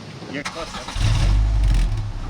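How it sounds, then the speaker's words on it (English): A Triton trike engine is started with its starter button, catching after a short crank and settling into a loud, low, steady rumble close by, with a brief voice and clicks just before it fires. "just turn the key on, and there's a button right underneath there. That's the starter."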